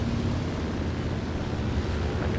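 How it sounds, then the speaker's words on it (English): A propeller plane engine drones in War Thunder during a ground realistic battle, a steady, dense low rumble holding even throughout with no talk. "I can hear another plane."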